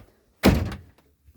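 Sliding door inside a 2000 Roadtrek 190 Versatile RV pushed open: a single short, close thud and slide that fades quickly, with no talk.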